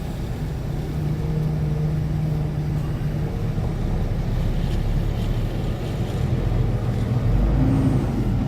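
A semi truck pulls away from a stop and drives on, its engine giving a steady, close, low rumble with road and wind noise, and no talking.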